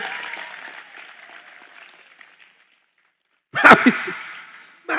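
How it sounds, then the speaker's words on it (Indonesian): An audience at a religious sermon gathering in Krasak Pancakarya, Ajung, Jember breaks into a short, loud burst of applause after a quiet stretch of distant talk. "itu tepuk tangan kan Ton"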